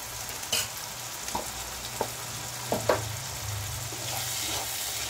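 Ginger paste fries in a pan in a Bengali-style masala, giving a steady soft sizzle with a few sharp scrape or stir clicks from a spoon. It is close and fairly quiet, with no talking.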